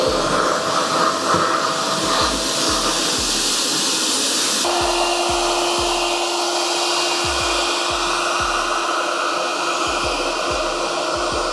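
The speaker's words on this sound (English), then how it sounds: "I am doing the laziest blow dry method" Hair dryer blow drying natural hair, a loud continuous airy roar whose pitch shifts midway as the setting changes, with soft rhythmic brushing or combing thumps underneath.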